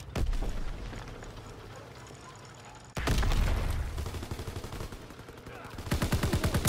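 Sustained gunfire in a WW2 video game, rapid machine-gun bursts and shots rattling on and off, with a sharp louder volley kicking in midway and another near the end, plus faint voices underneath.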